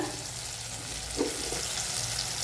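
Turmeric and red chili powder fry in a hot pan for a ridged gourd and moth bean dal dish, giving a steady, close sizzle with a soft stirring scrape partway through, no talking.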